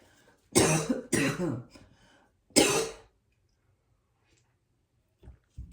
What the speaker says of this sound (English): I have no reason to be coughing